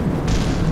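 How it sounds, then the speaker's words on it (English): Deep, sustained rumbling booms of explosions in Kerbal Space Program, fairly loud and continuous, with a brighter burst of noise partway through. "Got to love damn explosions."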